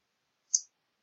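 A single crisp computer mouse click on a PC while navigating applications in a virtual machine, sharp and isolated against silence.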